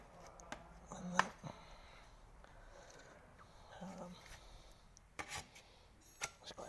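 Body filler being scraped with a spreader on a car bonnet during repair work, giving soft intermittent rasping and rubbing strokes with a few light clicks, quiet and close in a calm room.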